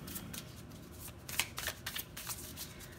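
Tarot cards being shuffled, a soft, quick, close riffling and flicking that runs in bursts through the whole moment at low volume.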